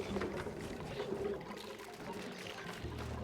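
Water being poured in the colony game Oxygen Not Included, a soft steady gurgling pour with faint trickling, quiet and continuous for a few seconds.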